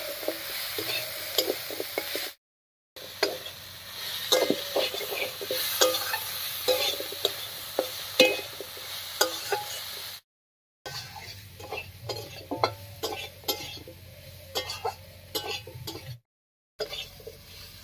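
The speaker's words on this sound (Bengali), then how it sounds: "এবার সব কিছু খুব ভালো করে মিশিয়ে নিচ্ছি।" Dried lote fish, onion and garlic with salt and turmeric are stirred in a hot pan, giving a steady close sizzle with repeated scraping and clinking of a spoon against the metal. The sound cuts out in a few brief silent gaps.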